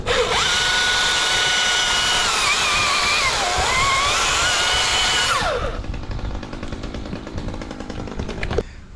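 A power saw whines loudly and steadily while trimming a small branch nub during tree work, its pitch dipping as it bites, then cuts out and leaves quieter rattling.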